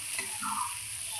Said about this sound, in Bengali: হিট দিয়ে এইভাবে ভেজে নিতে হবে কাটলেটগুলো